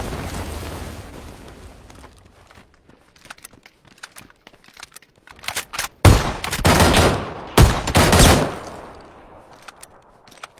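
Shotgun fire in a video game: scattered sharp shots at first, then a dense burst of loud blasts and a rapid volley near the end, loud and close.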